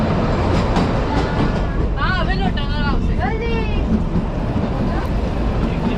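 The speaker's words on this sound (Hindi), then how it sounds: "पहाड़ों पर लहराती हुई हमारी ट्रेन चल रही है" The Kalka-Shimla heritage train on its mountain railway, a loud steady rumble and rattle of the carriages that runs throughout, with wavering squeals from the wheels on the curves partway through.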